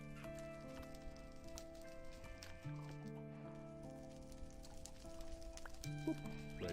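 Horse hooves clip-clop faintly in Minecraft with the SevTech modpack, scattered taps and a brief whinny over a sustained low musical tone.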